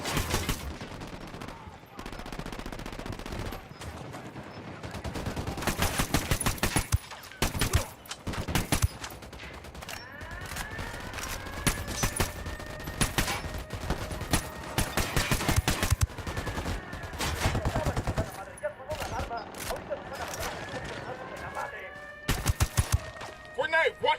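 Gunfire in the tactical shooter Ghost Recon Wildlands, with repeated loud bursts and single shots spread over about twenty seconds amid game ambience.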